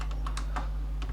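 Quick keystrokes on a computer keyboard while typing a python command, sounding as light, irregular clicks close by over a constant low hum, with no voices.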